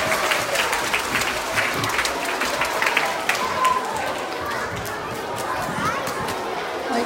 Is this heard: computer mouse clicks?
no